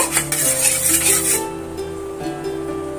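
A metal spatula spreads oil around a frying pan while egg paratha is being made, producing a busy scraping and clinking for about a second and a half, then a quieter hum of the pan.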